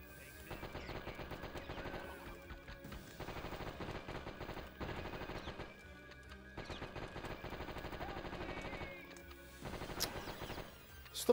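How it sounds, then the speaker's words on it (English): Rapid bursts of gunfire in the Die Hard Trilogy video game, repeated clattering volleys in clusters separated by short pauses, fairly quiet overall. "Did I just shoot a hostage?"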